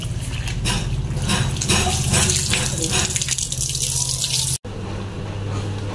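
Water running and splashing across a floor being washed in a village home, a steady broadband wash with a brief cutout near the end, continuing loudly throughout with faint talk mixed in.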